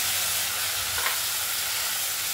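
A bay leaf and onion-ginger-garlic paste fry in hot oil for a yogurt bhetki fish curry, giving a dense, even sizzle with a faint stir near the middle.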